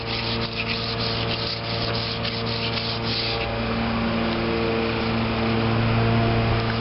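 Sandpaper rubs by hand over a Maytag Model 72 stand being prepared for paint, a continuous close scratchy scrubbing in quick back-and-forth strokes that shifts in tone partway through, with no talking.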